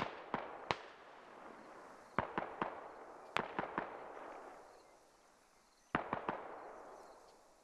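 Incoming gunfire in the tactical shooter Squad, with sharp cracks arriving in quick bursts of three to five shots, separated by short pauses, moderately loud and with no voices.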